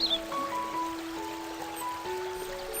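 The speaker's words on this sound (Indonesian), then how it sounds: "arus air sungai yang terdengar gemericik" Gentle, continuous babbling of a stream with soft water trickling, accompanied by faint steady tonal sounds in the background.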